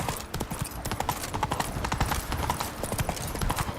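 The horse Roach trots in The Witcher 3, its hooves beating a fast, dense, steady clip-clop close by throughout.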